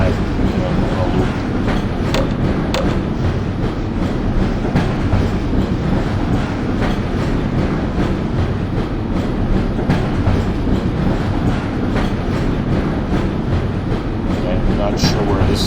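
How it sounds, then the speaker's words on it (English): A train rolls along in Half-Life, giving a loud, steady rumble with rhythmic clattering of wheels on track that holds the whole way through. "Okay, is the train gonna stop?"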